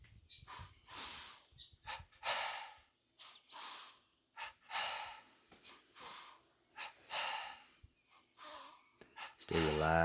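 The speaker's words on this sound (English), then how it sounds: "Preparing for double breathing Kriya. 30 breaths, starting with 10 in the belly." Deep, rhythmic breathing from a double breathing kriya pranayama exercise, with about a dozen strong belly breaths in and out, close and clear with no talking.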